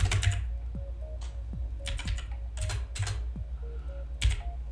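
Typing on a computer keyboard, a handful of separate clicky keystrokes and short bursts spaced irregularly over a low steady background hum, close and fairly clear.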